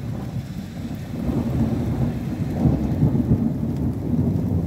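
Thunder rumbles low and continuously after a storm with lightning, a deep distant rolling that swells and sustains across several seconds, with no voices.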